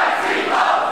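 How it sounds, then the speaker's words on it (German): Loud wrestling crowd shouting and jeering together at a live German wrestling show, a dense roar of many voices filling a brief moment. "Und das Publikum fordert es, schmeiß ihn raus."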